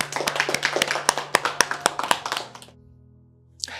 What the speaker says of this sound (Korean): 우리 영광받게 합당하신 주님께 박수하시겠습니다